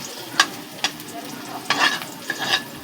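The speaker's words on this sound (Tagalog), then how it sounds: "Ito nga palang ginisa ko na una ay luya" Ginger and spices sautéing in a pan for chicken tinola, a close steady sizzle broken by sharp scraping stirs of the utensil, no voices.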